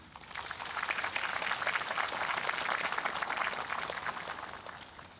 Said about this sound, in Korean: 이 자리에 함께하신 이현원님께 따뜻한 박수를 부탁드립니다.